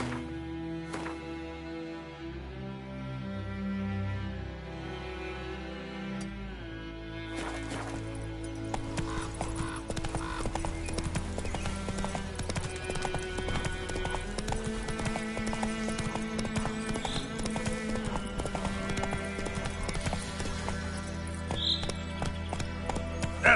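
Roach the horse from The Witcher 3 gallops in steady rapid clip-clop hoofbeats under continuous game music, with a brief whinny.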